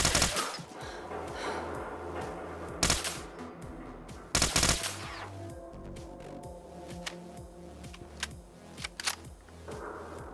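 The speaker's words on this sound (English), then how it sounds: "I shall demonstrate the scar on these very dangerous gas canisters in third person and first person perspective." SCAR rifle from Fallout 4 fires sharp rapid shots at gas canisters, loud bursts and single cracks near the listener with a few heavier blasts, over a low rhythmic music bed.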